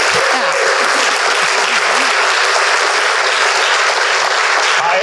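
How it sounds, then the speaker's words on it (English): At a town hall meeting, the audience gives a speaker a loud, sustained round of applause, dense continuous clapping filling the room with no talk over it. "can we get an applause for Janie Mather real quick?"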